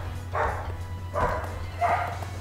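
Dog barking outside at a distance, three muffled barks spaced about a second apart over a steady low hum, fairly faint and far off.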